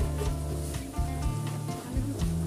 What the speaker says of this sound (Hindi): ये देखिए इस तरह से हम डबल से इसे फ्राई कर रहे हैं।